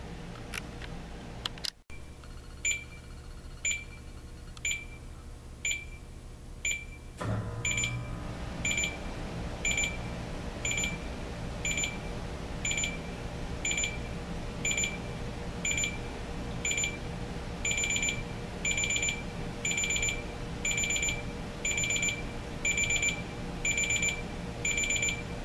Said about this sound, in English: you're gonna hear the alarm, which is a 4-stage ascending alarm